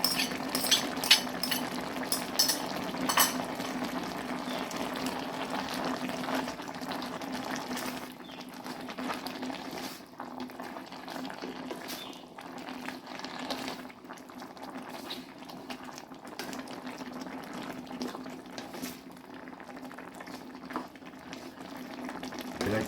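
Crab soup with kaffir lime leaves bubbles at a steady rolling boil, a continuous close wash of popping and gurgling with a faint clink of utensils near the start.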